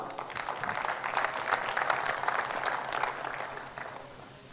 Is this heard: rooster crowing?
no